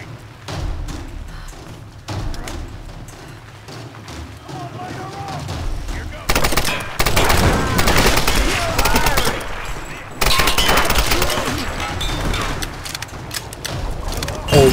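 Rapid video game gunfire in a Lara Croft and the Temple of Osiris playthrough, with dense bursts of automatic shots and heavy thumps that grow louder midway, alongside scattered male speech.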